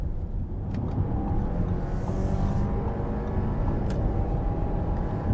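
An Audi Q5 Sportback plug-in hybrid crossover drives along the road, a steady interior rumble of engine and tire noise with a slight rise as it accelerates, no talking.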